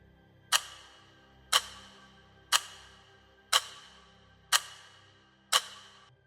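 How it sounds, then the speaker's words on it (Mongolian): A white alarm clock ticks steadily, six crisp, close ticks spaced about one second apart in an otherwise quiet room, with no voices. "Цагны чимээ бүүрч тодор сонсдоно."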